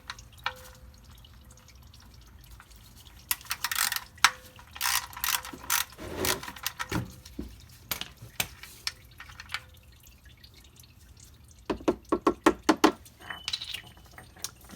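A tool loosening the oil filter cartridge on a Lexus RX350, heard as scattered metallic ratchet clicks and clunks with a quick run of clicking near the end, against a quiet background.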